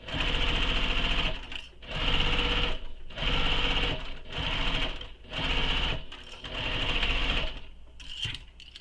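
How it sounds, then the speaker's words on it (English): Sewing machine basting the bottom edges of fabric pieces together for a soft toy, running close in five or six bursts of about a second each, with short pauses between. "Then I'll baste the bottom together."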